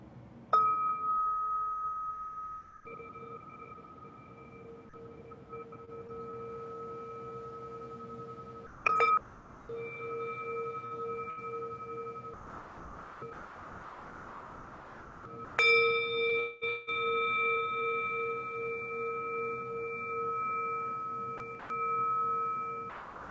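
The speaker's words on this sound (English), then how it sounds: "If you have a bell handy, we're going to ring it to 3." Bells ring out in long sustained resonant tones during an online civic gathering, several strikes spaced apart with overlapping ringing decays, one struck louder partway through.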